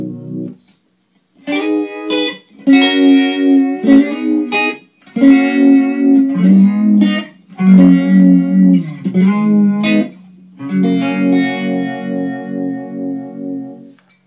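A guitar played through an Electro-Harmonix Small Stone phaser, chords and sustained notes swirling and phasing in short phrases with brief gaps, loud and close.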